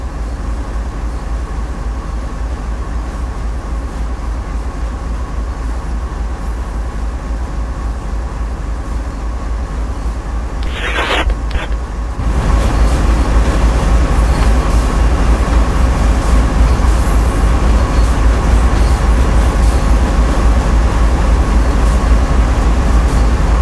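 CSX train cars rolling under a loader chute in the Train Simulator game, a steady loud mechanical rumble with a brief metallic squeal midway, after which the low drone grows louder and continues.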